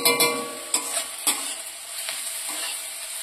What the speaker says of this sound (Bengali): এবার একটু নাড়াচাড়া করে নিচ্ছি টমেটো কুচির সাথে